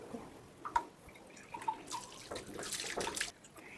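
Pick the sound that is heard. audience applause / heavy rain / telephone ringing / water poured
water poured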